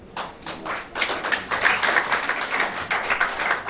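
Applause from an audience at a New Year's greetings gathering for Lomami province, steady crowd clapping building and holding over several seconds, moderately loud and without speech.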